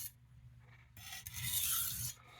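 Sabatier 8-inch chef knife ground against a medium crystalline sharpening stone, a quiet start followed by a louder, steady raspy scraping stroke that fades out.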